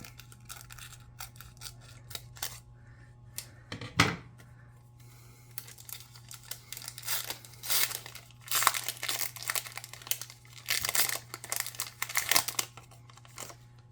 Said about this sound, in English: I'm going to have to use the dreaded scissors on it.